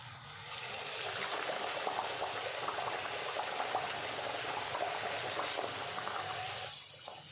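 A puri fries in hot oil, a dense bubbling sizzle that swells in after a quiet start and holds steady before easing off near the end.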